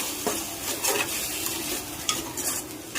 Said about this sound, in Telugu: టమోటా ఫ్రై అవ్వడానికి కొంచెం సాల్ట్ వేసి ఫ్రై చేయండి